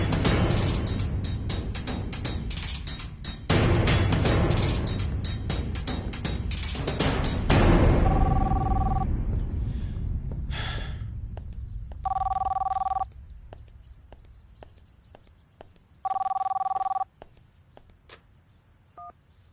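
Rapid clattering noise gives way to a landline telephone ringing in three evenly spaced electronic bursts, each about a second long, sounding alone at moderate loudness.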